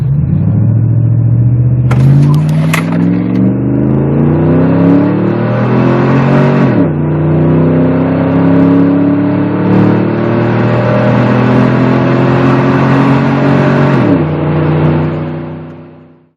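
A Dodge Durango with the 5.7-liter Hemi runs 0 to 60, its loud V8 rising through several gears with clear drops at each upshift, then fading out at the end.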